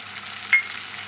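Ginger-garlic paste frying with tomato in a pan, a steady soft sizzle broken by one brief louder sputter or stir midway, no talking.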